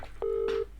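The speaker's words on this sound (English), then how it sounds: "I'm calling the cops." Telephone keypad tones sound while someone dials the police, a short faint beep followed by a longer steady tone, quiet and alone.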